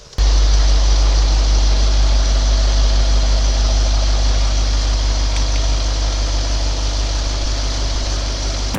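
A car engine runs steadily during a test drive after daytime running lights were fitted, giving a loud, constant low hum and drone with no change in pitch throughout and no talk.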